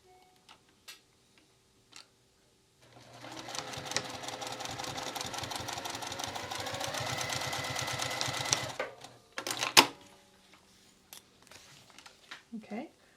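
A sewing machine stitching a wristlet seam starts up after a quiet lead-in and runs in a steady, rapid ticking whir for several seconds, then stops, followed by a few clicks and handling noises with brief talk.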